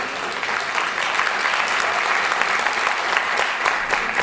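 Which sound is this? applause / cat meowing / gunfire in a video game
applause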